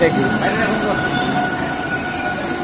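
Train pulling into Alipurduar Junction with a loud, steady high-pitched squeal of wheels on rails over continuous rumbling, close by and without pause throughout.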